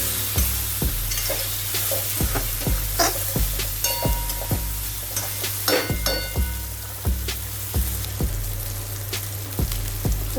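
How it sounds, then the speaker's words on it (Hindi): Tomatoes and masala fry for a Kolkata-style chicken biryani, a steady sizzle punctuated by regular, sharp clacks of a spoon scraping and stirring the pot, close and loud with no talking. "ये डाल के अच्छे से मसाला को पकाना है।"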